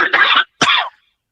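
A person coughs twice in quick succession during a live online stream, close and loud, the second cough sharper and followed by silence.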